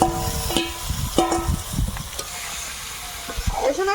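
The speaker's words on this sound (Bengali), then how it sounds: "এখন ম্যারিনেট করা মাংসটা দেবো" Marinated duck meat goes into a hot pan and hisses with a loud, close sizzle, along with a few clanks and stirring scrapes.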